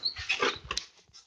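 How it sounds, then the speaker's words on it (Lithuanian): A dog close by at home makes short snuffling, whining and grunting noises in quick uneven bursts, fairly soft and with no talk. "o čia šuo labai nori manęs, štai šuo"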